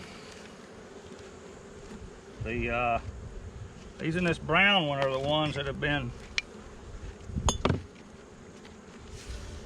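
Honey bees buzz around hive frames at an open hive, a low steady drone running beneath someone talking nearby, with a few brief knocks of frames being handled.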